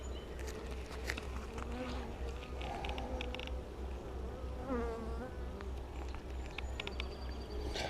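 Honeybees drone in a steady, dense buzz while a hive is opened for inspection, close and continuous, with a few faint bird calls and soft handling noises underneath.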